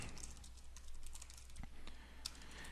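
Typing on a computer keyboard into Windows Notepad: a quiet, steady run of light key clicks over a low background hum, with no voices.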